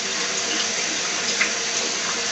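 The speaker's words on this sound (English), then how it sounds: "While the water is flooding and flushing it out," Water runs steadily from a kitchen tap, flooding and flushing seeds and membranes out of peppers in a sink, a continuous close broadband rush with no talk.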